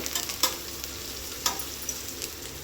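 Onions and green chillies, salted with rock salt, sauté in a pan for mutton biryani, giving a steady close-up sizzle broken by a few sharp stirring clicks, with no voices.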